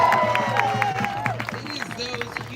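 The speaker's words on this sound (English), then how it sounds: "Can we have another round of applause for Evan?" A rally crowd gives a round of applause with scattered cheers and whoops, clapping under overlapping voices and fading somewhat toward the end.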